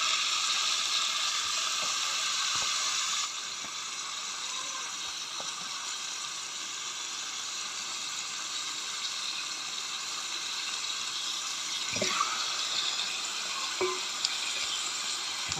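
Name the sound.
chicken being parboiled in water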